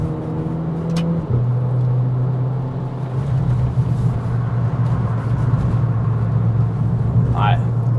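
Renault Clio IV RS Trophy, a front-wheel-drive car, sliding on a track, a steady engine drone that drops in pitch early and holds evenly, with tyre scrub and a short squeal near the end, heard from inside the car.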